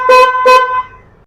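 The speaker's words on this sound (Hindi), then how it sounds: "जैसे इस स्विच को इस साइड घुमाते हैं तो यहीं पे छोटा वाला हॉर्न बजेगा" The small aftermarket horn on a Honda Activa 6G BS6 scooter gives two short, loud, close honks in quick succession, then a brief fading ring, with no talking.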